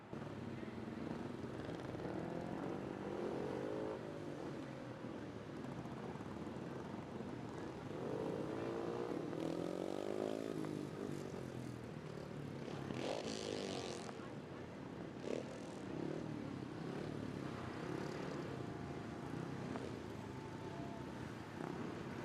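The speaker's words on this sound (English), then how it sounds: "I hear that straight pipe out there again, no muffler" A loud race car engine with a straight-pipe exhaust and no muffler drones on a dirt track, its revving pitch sweeping up and down continuously near and loud, with faint crowd or announcer noise underneath.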